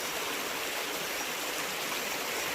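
Natural spring water at a hidden spring in Little Baguio flows steadily in a continuous, close, full rushing wash with no other sounds over it.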